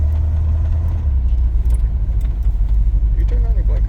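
An old farm truck's V8 engine drives along country roads, a deep, steady low rumble filling the cab with constant road noise and light rattles; a voice briefly talks near the end.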